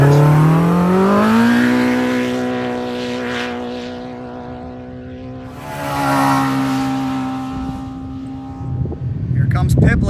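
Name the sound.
off-road race vehicle passing in desert qualifying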